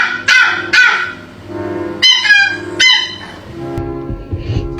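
A dog makes strained, sputtering yelps and barks in uneven bursts, like a car engine cranking but refusing to start, close and loud with no speech.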